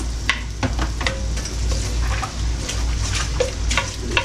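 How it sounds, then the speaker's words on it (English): Onions sweating in a pan on a home stovetop, a steady close sizzle and crackle with occasional stirring scrapes and clinks, no talking. "The best smelling thing in the world is onions cooking on the stove."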